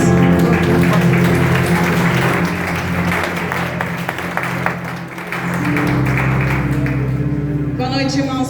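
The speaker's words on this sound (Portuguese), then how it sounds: "Aplauda o nome de Jesus." A church congregation claps during an evening Quadrangular service, rhythmic clapping mixed with music and voices, fairly loud and continuous, dipping briefly near the middle before resuming.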